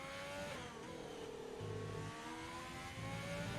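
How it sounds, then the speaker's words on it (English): Race car engine in a Formula-style racing video game at the Belgium round, revving and shifting through gears in rising whines with low pulsing tones, steady and moderately loud. "You hear the roar of that engine as we come midway through Sector 2."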